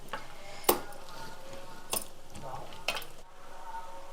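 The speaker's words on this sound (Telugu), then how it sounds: "ఇంకా అల్లం గారెలు వేసేసుకుందాం" Ginger vadas go into hot oil for a Dussehra puja meal, making a soft, fairly quiet frying sizzle with a few sharp clicks and splutters as they drop in.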